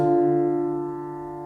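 A piano sounds a sustained two-note interval, D in the left hand under F in the right, struck once and left to ring and slowly decay, clear and alone.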